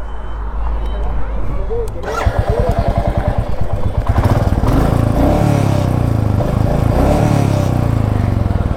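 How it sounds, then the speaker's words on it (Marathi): A Kawasaki Z650 motorcycle with an aftermarket exhaust thumps and revs loudly nearby with a deep, throaty exhaust rumble, joined by other passing engine noise, with voices talking over it. "रजतने एक्झॉस्ट लावलं वाटतं."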